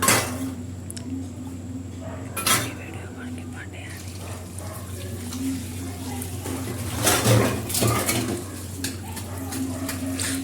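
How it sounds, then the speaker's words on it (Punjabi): Tea dishes and pots being washed by hand at a household sink, with intermittent clinks and clatters of crockery over running water and a steady low hum, louder bursts near the start and toward the end. "ਇਹ ਕੁਝ ਚਾਹ ਵਾਲੇ ਸੀ ਭਾਂਡੇ ਕੁਝ ਬੱਚੇ ਸਾਰਾ ਦਿਨ ਖਾਂਦੇ ਪੀਂਦੇ ਰਹਿੰਦੇ ਨੇ ਤੇ ਉਹ ਵਾਲੇ ਭਾਂਡੇ ਵੀ ਹੋ ਗਏ ਸੀ"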